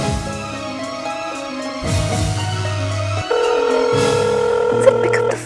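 A telephone rings on and on unanswered, a repeating electronic ringtone in stepped tones that grows louder partway through, with no voices.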